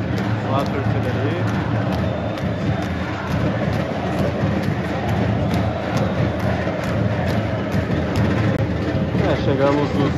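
Stadium crowd noise from a CRB vs Ceará Copa do Brasil football match, a steady dense roar of supporters cheering and chanting throughout, with a loud unbroken wash of voices and no quiet moments.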